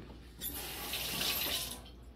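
Tap water runs over a peeled hard-boiled egg for about a second and a half, a close, steady splashing rush under a faucet that starts and stops abruptly.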